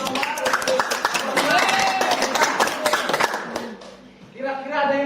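Pupils in a classroom clap for a group at the teacher's request, a sharp patter of many hands running under steady talk and chatter, then trailing off near the end.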